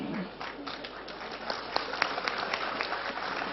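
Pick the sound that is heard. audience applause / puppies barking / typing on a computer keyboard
audience applause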